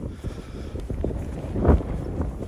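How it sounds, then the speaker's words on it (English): Gusts buffet the microphone outdoors on the Saxon Shore Way near Otterham Quay, with low rumbling thumps and muffled roaring, swelling and easing over a couple of seconds. "So still a bit windy, so I hope you can hear me properly."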